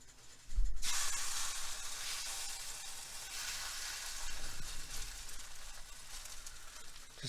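An egg tortilla fries in a hot pan, with a sudden loud sizzle that starts as the egg meets the pan and settles into a steady, close hiss of frying with no talking.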